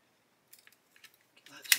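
Masking tape pulled off a grey-painted 1/35 scale plastic model of an 8.8cm Flak on a 9t VOMAG truck, with soft scattered ticks leading into a sharp close peeling rip at the end.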